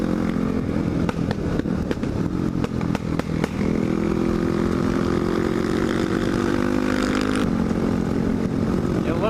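A supermoto motorcycle engine drones steadily while riding along a misty road, loud and close with wind rush, a few clicking ticks early on, and a slight rise in pitch partway through.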